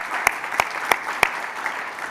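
Audience applause during a 2023 43North semi-finals event: a crowd claps steadily, with four sharper claps standing out near the microphone, and there is no talk over it.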